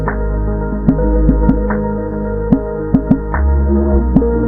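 A looping synth-driven music passage from an Ableton Move with sharp percussive hits, coloured by a gritty, crunchy Redux bit-reduction texture throughout.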